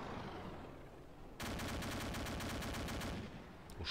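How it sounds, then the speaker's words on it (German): Sustained heavy machine gun fire from a tank in ArmA 2, a steady rhythmic stream of loud shots that starts abruptly after a quieter ambient stretch and runs for a couple of seconds before trailing off. "Unser, ist unser Panzer, der runterfährt und schießt."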